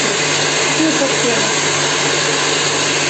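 An electric mixer whisks cake batter with sugar, giving a steady, loud whirring drone that holds unbroken throughout with no pauses.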